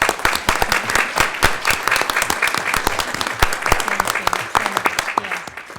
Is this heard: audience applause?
yes